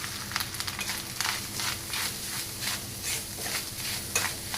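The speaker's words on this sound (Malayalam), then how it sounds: "ഈ എണ്ണയിലേക്ക് നമുക്ക് തേങ്ങ വറുത്തെടുക്കാം." Grated coconut fries in hot oil in a pan, a continuous sizzle with crackling bursts and occasional stirring scrapes, close and steady.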